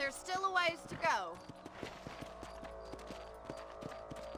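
Horses in the Western video game Red Dead Redemption trot with a steady, even clip-clop of hooves after a brief burst of other sound at the start, the hoofbeats close and regular.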